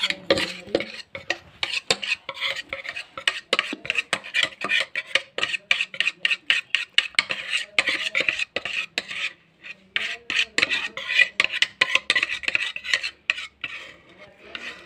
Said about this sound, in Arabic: احنا دابا غادي نخويو الخليط ديالنا